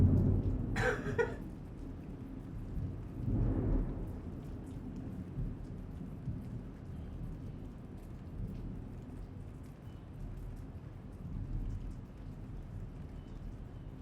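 During a lightning storm at a World Cup venue, a low rumble of thunder rolls in over steady rain, with a brief sharp crackle at the start before the downpour settles into a faint continuous wash.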